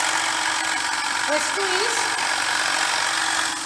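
A DC shunt motor runs under an increasing brake-test load, giving a steady, even mechanical hum throughout while a voice talks over it.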